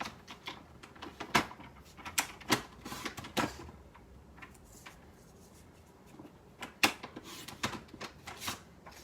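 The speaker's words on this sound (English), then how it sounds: "I will just cut this with the trimmer quickly." A paper trimmer slicing through card at a crafting table, giving clustered clicks and scraping mechanical snaps in two bursts separated by a quieter pause.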